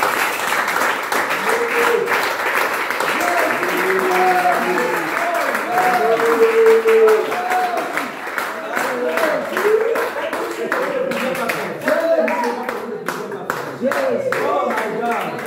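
A worship crowd at a healing service applauds and cheers steadily, dense clapping over excited shouting voices, loud and close throughout.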